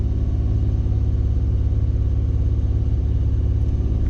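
A car engine runs under light throttle while being road-tuned with a Megasquirt system, a close, continuous low rumble holding steady throughout with no voices.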